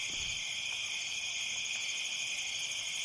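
Crickets chirp loudly and continuously in a dense, high-pitched drone that never lets up.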